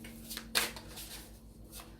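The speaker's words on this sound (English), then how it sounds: "as I'm shuffling the cards" Rider-Waite tarot cards being shuffled by hand, quiet close riffles and soft slaps in a few short bursts over a low background hum.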